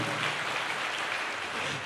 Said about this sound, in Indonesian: Ayo tepuk tangan di atas kepalamu